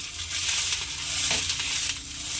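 A chapati fries in hot oil with a steady, bright sizzle that rises slightly in the middle of the clip. It sounds close and fills the whole stretch, and no one speaks.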